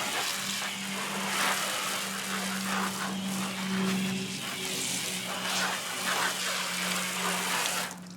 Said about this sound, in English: Now we're going to turn off the black dowel and just rinse it off with water again.